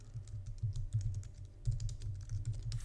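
Fingers type on a computer keyboard, a steady run of quick, light key clicks with small pauses between bursts, close and alone without any voice.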